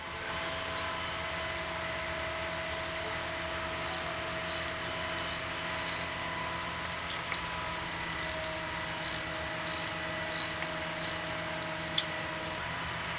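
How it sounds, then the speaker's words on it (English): A 16mm socket and ratchet loosening bolts on a Geoprobe DM450 drill rig joint, a series of short repeated ratcheting clicks in bursts over a steady machine hum. "we will loosen the bolts at this joint here. To do this, we'll use our 16mm socket and ratchet."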